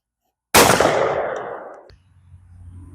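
A single sharp, loud blast from a 16 gauge bolt-action shotgun rings out suddenly outdoors, its boom decaying over about a second and a half before falling quiet.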